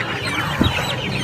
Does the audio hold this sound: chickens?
yes